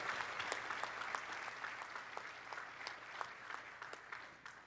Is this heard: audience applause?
yes